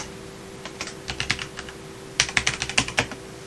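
Computer keyboard keys clack in quick bursts as commands are typed, close and crisp, with a short pause between two runs of keystrokes over a faint steady hum.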